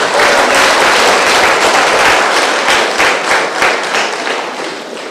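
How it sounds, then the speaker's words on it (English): Loud, dense applause from an audience at a retired persons' association meeting in Trinidad and Tobago, sustained clapping that tapers slightly toward the end. "give them a round of applause"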